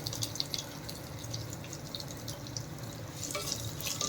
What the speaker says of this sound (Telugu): నెక్స్ట్ వచ్చేసి ఆనియన్స్ వేసుకుంటున్నాను